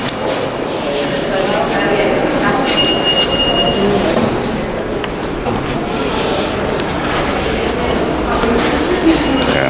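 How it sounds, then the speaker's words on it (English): A train pulling into an underground metro station, a broad rumbling wash with faint wheel squeal and a brief high tone, steady and fairly loud throughout, with people's voices mixed in the background. "There is a train approaching the station."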